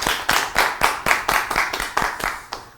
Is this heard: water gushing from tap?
no